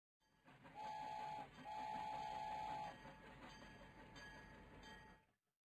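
A train horn sounds in two long blasts over rumbling rail noise, then the rumble fades out.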